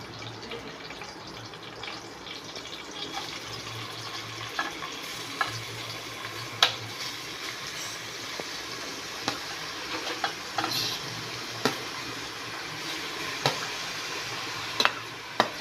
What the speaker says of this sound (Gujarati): દૂધી એડ થઈ જાય ત્યારબાદ આપણે તેને બરાબર રીતે હલાવવાનું છે અને શેકાવા દેવાનું છે.